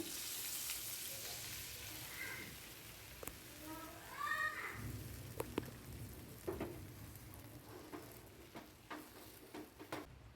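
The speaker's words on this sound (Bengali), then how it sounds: "আমি যে আগের থেকে যে স্টকটা বানিয়ে রেখেছিলাম সেই স্টকটা দিয়ে দিচ্ছি দেখুন" Homemade chicken stock poured into a pan of lightly fried green chillies, bringing a sizzling burst followed by steady frying crackle and scattered sharp clicks of utensils, with no one speaking.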